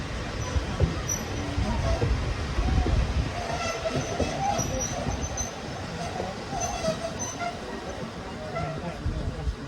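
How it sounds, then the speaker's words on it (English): Steady rumble and rhythmic clatter of wheels on rails heard from on board the Flying Scotsman steam train, a continuous dense low roar with faint high squeals, close and moderately loud throughout. "We are riding the Flying Scotsman."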